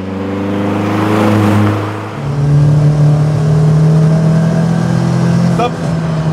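Peugeot 206 RC hatchback starting a timed lap with freshly fitted brakes, its engine note rising steadily then shifting to a sustained, loud drone at a new pitch, with faint voices beneath.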